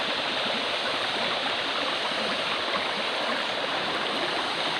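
Steady, even rush of a mountain stream flowing over rocks, continuous and moderately close with no voices.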